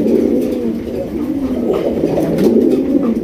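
A pigeon gives repeated deep, rolling coos close by in a loft with many pigeons, the low calls swelling and fading in an unbroken rhythm.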